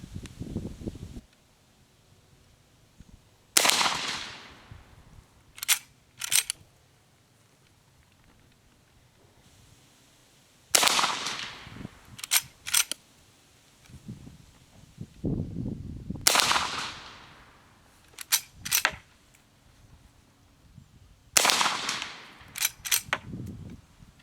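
Winchester 1873 lever-action rifle fires four loud, sharp shots at intervals of roughly five seconds outdoors in a yard, each crack trailing off and followed by a pair of quick metallic clicks from the lever action.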